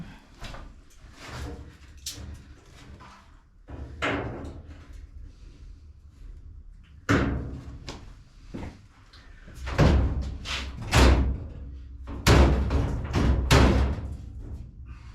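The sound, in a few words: clipping door steps in place on a Classic Mini Clubman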